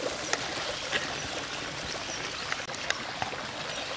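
Water flows out at Thottikallu Falls, a broad, steady rushing wash with occasional small splashes, moderately loud and constant throughout.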